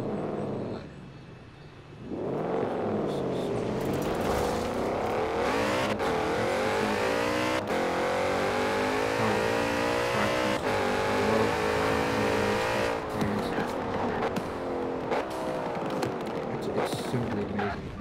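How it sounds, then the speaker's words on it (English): A Porsche Panamera Turbo runs through a sequence of rising and falling engine revs, loud and close, with sharp vertical cracks from exhaust pops on downshifts scattered throughout. "There's pops and crackles on every downshift you do"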